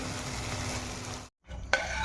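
Thin-sliced potatoes and okra frying with spice in a pan, a steady close sizzle that cuts out briefly, then returns with a clink.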